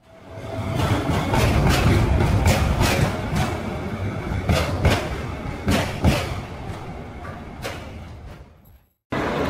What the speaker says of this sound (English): We're back at the Varenze train station.